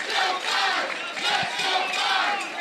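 Spectators at a professional pickleball match in New York cheer and shout, a loud, sustained crowd roar that swells and holds for a few seconds.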